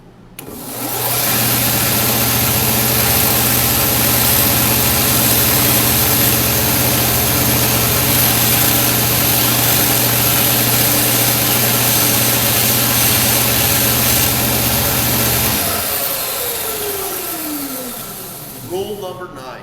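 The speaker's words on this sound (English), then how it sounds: "That's the safe way to sand with a disc sander." A disc sander motor roars at constant loud pitch for about fifteen seconds, then switches off and winds down with a falling whine as the disc coasts to a stop.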